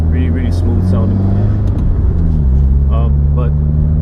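A Subaru WRX with a Cobb exhaust runs with a steady, smooth, low engine drone, heard from inside the car beneath a person talking.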